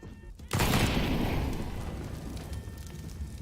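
A sudden loud burst of video game gunfire or an explosion erupts after a brief quiet moment, then its rumble slowly fades out.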